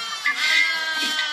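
Goats and sheep bleat together in a clearing in Senegal where a family keeps its livestock, giving a brief, fairly close chorus of overlapping cries with no talk.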